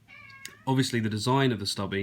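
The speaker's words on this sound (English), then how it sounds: "if you can hear a cat meowing in the background, that's what it is, an annoying cat meowing in the background." A cat meows several times in a room as someone talks over it about a fidget spinner; the drawn-out cries are mixed with his speech.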